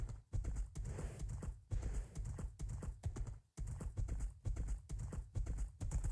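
Horse hooves clip-clop in Minecraft, a rapid, regular run of dull thuds in bursts separated by brief pauses, close and fairly faint, with no talk over it.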